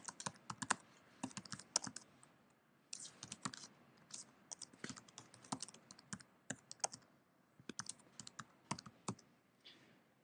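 Typing on a computer keyboard, quiet and close, with quick clusters of key clicks broken by short pauses and no one talking.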